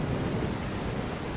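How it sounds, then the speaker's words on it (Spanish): Heavy rain pours in a thunderstorm, a dense continuous hiss and patter with a deep low rumble of thunder underneath, steady and loud with no one speaking. "Pero la lluvia regresó"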